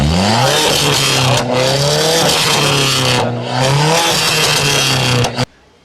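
A modified Volkswagen Polo TSI with an aftermarket exhaust revs loudly up close, its engine note rising and falling in repeated sweeps before cutting off abruptly.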